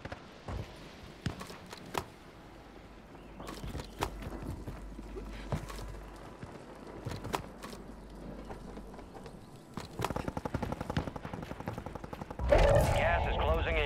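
Sharp scattered gunshots crack out in Call of Duty Warzone Resurgence, isolated single shots spaced irregularly and then a rapid burst of automatic fire near the end, with faint voices and movement between.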